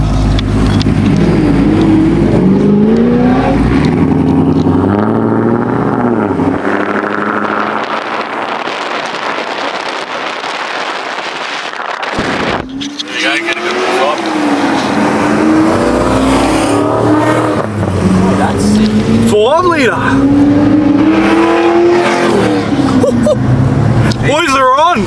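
Skid cars at a skid meet, loud revving engines and burnout roar with strong wind buffeting on the mic, a brief dip midway before the screaming revs return, with people talking over it throughout.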